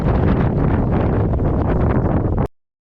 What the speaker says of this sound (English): That wind is absolutely just ripping